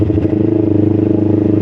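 A Kawasaki Ninja 250 FI motorcycle engine idles steadily up close, running rough with an uneven pulse and a light ticking clatter running through it.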